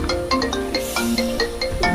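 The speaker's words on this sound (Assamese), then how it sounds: "গাৰ্লফ্ৰেণ্ডে ফোন মাৰছি" A phone ringtone for an incoming call plays loud and close, a repeating electronic melody of bright tones with steady rhythm throughout, no talking.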